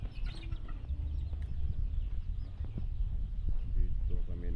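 Native chickens cluck and chatter constantly at a hatchery, with several birds close by and overlapping, and someone talks beneath the noise.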